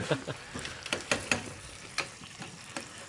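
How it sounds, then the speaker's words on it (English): A hot lamb shepherd's pie on a plate sizzles softly, with faint crackles and small pops close by. "Lovely lamb there. Sizzling hot."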